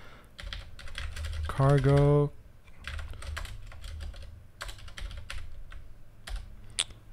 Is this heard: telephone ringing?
no